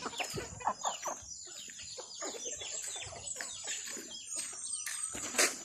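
Free-range native chickens and turkeys clucking and calling at a farm during feeding, with a busy overlapping chorus of close clucks, a rooster-like crow near the end and steady outdoor bird noise behind.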